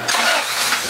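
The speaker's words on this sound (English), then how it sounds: "starting your vehicle and letting it idle for a minute or two" A car engine catches and settles into a steady idle before a compression test. The burst is short, loud and close, with a broad hissing roar and no speech.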